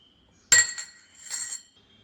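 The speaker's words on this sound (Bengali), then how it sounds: "একটুখানি জাস্ট চামচ দিয়ে এটাকে ঘেটে দিলাম" A metal spoon clinks against a glass while stirring Darjeeling tea, one sharp bright ring followed a moment later by a softer scraping clink, close and alone.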